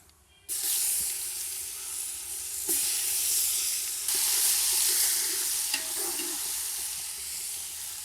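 Curry masala and ginger-garlic paste hit hot fish oil, bursting into a loud, sustained close sizzle after a brief quiet start, with a few stirring scrapes along the way.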